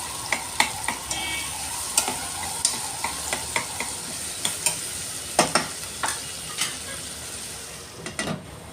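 Onions frying in oil in a pan, with a steady sizzle under repeated sharp clicks and scrapes of a spoon stirring against the metal, close and moderately loud, no talking.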